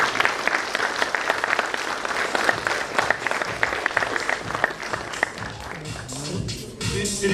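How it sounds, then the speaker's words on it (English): An audience at the BSides Delhi 2017 security conference breaks into loud, sustained applause after a keynote talk, a thick continuous wash of clapping with a few crowd voices rising underneath. "this is when you break out into thunderous applause."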